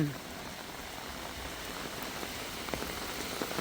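Rain falling steadily at a rural Thai home after a long dry spell, a soft continuous patter with scattered louder drops, no voices.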